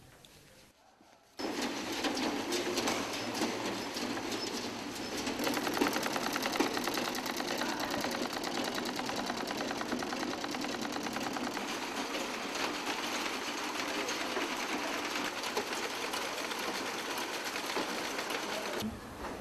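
A sewing machine runs in a sewing class, starting after a moment of quiet and then whirring in a continuous, fast mechanical rattle that holds steady and fairly loud to the end.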